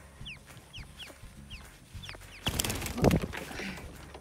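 A quail being handled by hand gives repeated short chirping calls at a steady pace, moderately near, followed by rustling and a louder flurry of movement and squawks, no speech.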